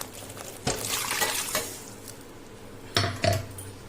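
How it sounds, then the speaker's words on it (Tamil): Water poured into a cooking pot of rasam made with a ground paste, a splashing pour with clanks of the pot at the start and two sharper knocks near the end, close by and fairly quiet. "இன்னும் கொஞ்சம் நான் தண்ணி ஊற்றிக்கிறேன்"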